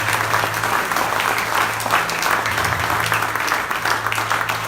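A church congregation applauds, giving sustained, dense clapping from a large crowd that fills the room at a steady level throughout.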